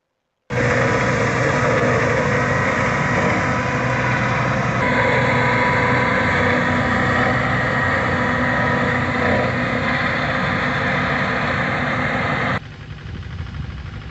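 A big blue tractor's engine runs in a continuous, steady drone close by for about twelve seconds, then cuts abruptly to a quieter, rougher rumble.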